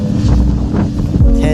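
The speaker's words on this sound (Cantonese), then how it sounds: "聽到啲風都幾勁啊！" Strong, cold wind of about 5 to 6°C buffets the microphone in Helsinki's city centre, a loud continuous low roar with gusting swells throughout and no clear voices.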